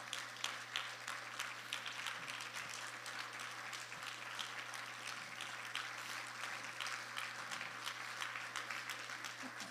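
An audience applauds at a meeting during an announcement, a steady wash of many hands clapping, faint and distant, with no talking.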